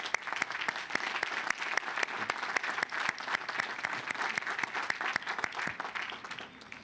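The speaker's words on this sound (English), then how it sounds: "Another round of applause for our keynote speaker." A commencement crowd gives the keynote speaker steady, dense clapping that fills the hall evenly from start to finish, with no voices over it.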